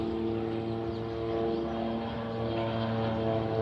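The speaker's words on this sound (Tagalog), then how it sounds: "Ay aeroplano ng lupad lods" An airplane passes overhead above farmland in the countryside, a steady droning rumble with engine tones that holds at moderate loudness for the whole stretch, without voices.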